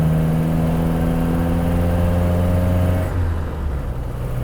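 A Standard 12 Deluxe Saloon with a Wilson pre-select gearbox drives on, its engine a loud, steady hum from inside the cabin. The drone eases slightly near the end as the car shifts into fourth.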